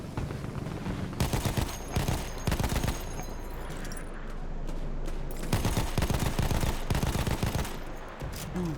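Dense gunfire in a Battlefield 1 battle, with bursts of rapid automatic fire and scattered shots packed one after another, loud and close throughout, almost no pauses, amid wider battlefield noise.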